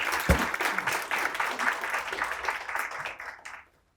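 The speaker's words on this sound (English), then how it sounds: "round of applause." Audience at a university lecture forum in Seoul gives a warm round of applause, dense clapping that holds steady for about three and a half seconds before stopping abruptly, with a brief voice near the start.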